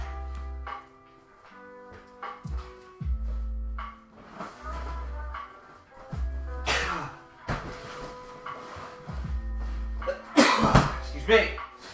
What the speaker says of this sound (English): Apologies for the sneezing, guys, and the spluttering tonight.